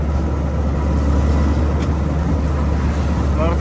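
A Ford GPW / Willys jeep pulls away with a steady, loud low engine drone close by, joined by wind and road noise.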